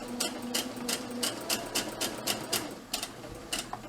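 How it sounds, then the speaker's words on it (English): A sewing machine stitches two pieces of fabric together for a homemade mask, giving a steady, rapid mechanical chatter with regular needle beats. It is close and loud and runs without a break, with no voices. "Just continue sewing, making sure your foot always lines up with the fabric"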